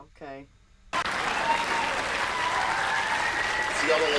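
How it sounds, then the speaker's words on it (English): A comedy club crowd bursts into loud, sustained applause, dense clapping that starts abruptly after a short spoken phrase and keeps going at full strength. "See all the Latinos are clapping because they know."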